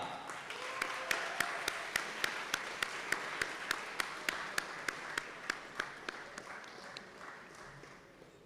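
Audience applause for the Slovakia delegation at the CEOAI 2026 opening ceremony, with a steady bed of hand clapping from a large crowd and a rhythmic run of louder, evenly spaced claps on top, sustained at moderate level.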